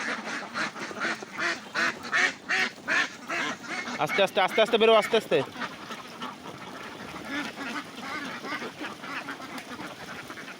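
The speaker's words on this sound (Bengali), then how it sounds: "তো হাঁস ছাড়লাম" A crowd of about two hundred young ducks quacking loudly and rapidly as they are let out, a busy overlapping chorus that thins out as a person speaks quietly over them.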